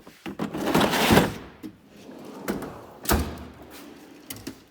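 A Snap-on toolbox drawer slides open and shut with a long metallic glide, then several sharp clacks and thuds as drawers close, close and fairly loud.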